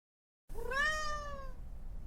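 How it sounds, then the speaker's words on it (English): A single soft, drawn-out cat meow rises then fades, close and clear, with no other sounds around it. "I hear a soft, fetching meow."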